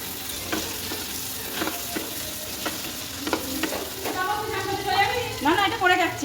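Marinated fish and onion fry in generous hot oil, giving a steady sizzle broken by spatula scrapes, with a person talking over the frying in the later part.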